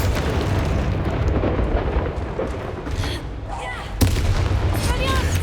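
Blasting Confringo spell explosions in Hogwarts Legacy, dense repeated booms and bursts over a constant roar of combat effects, with a sharp loud blast near the end and voices calling out spells.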